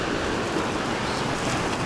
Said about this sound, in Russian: Ой, ой, волна.